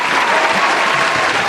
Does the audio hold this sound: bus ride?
no